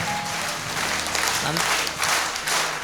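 A church congregation claps hands together in a loud, dense, continuous burst of applause filling the space, with voices mixed underneath.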